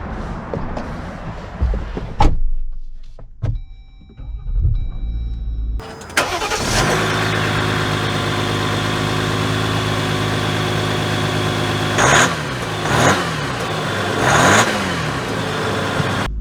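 A 2023 Jeep Wrangler Rubicon EcoDiesel Reign Edition turbodiesel cranks over after a few bumps and clicks inside the cab. It catches loudly and settles into a steady, rumbling idle, with a few brief surges partway through.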